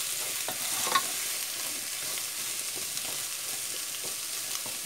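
Green and yellow bell peppers sauté in a hot pan, giving a steady close sizzle with occasional stirring scrapes and small taps, no talking.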